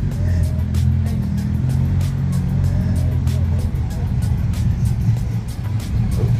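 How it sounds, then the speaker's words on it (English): A drift car's engine rumbles steadily at close range at a nighttime Cars and Coffee meet, a deep continuous drone with faint ticking over it and background voices mixed in. "Talk about a drift car."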